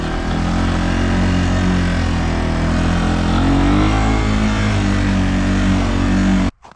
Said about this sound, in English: That's a 2019 TW 200, and we're gonna go take it for a ride.